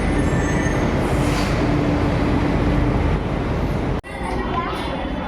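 A metro train passes with a steady, dense rumble and rolling rattle that fills the whole stretch, fairly loud and close, then dips briefly near the end before resuming, while people talk over it.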